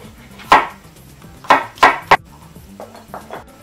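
A knife slices garlic into thin pieces on a cutting board, giving a few sharp, close chops in an uneven rhythm, followed by several softer taps.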